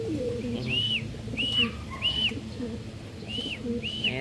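Pigeons coo in a flyers loft holding young birds, with five or six soft, rising-and-falling coos spread evenly over a steady low background hum.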